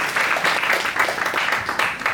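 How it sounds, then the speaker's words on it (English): Audience applause at a Cloud Native Kuala Lumpur tech meetup, a steady wash of many hands clapping at close range for a presenter, sustained and fairly loud throughout with no voices on top. "Please give a big round of applause for Mr. Kahwe."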